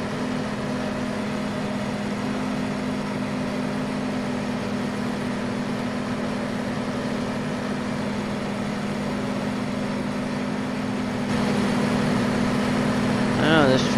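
John Deere tractor in Farming Simulator 15 running steadily, a constant low engine hum with a tonal drone that grows slightly louder near the end, heard alone.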